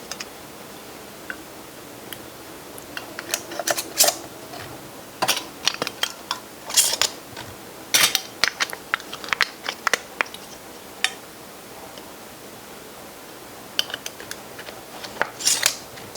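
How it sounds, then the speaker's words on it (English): Metal canning lids are set onto glass jars of rhubarb barbecue sauce and screw rings are turned finger tight. The sound is a scattered run of light metallic clicks, ticks and scrapes close up, with no voices. "So you place the lid on the jar and just finger tighten the jar."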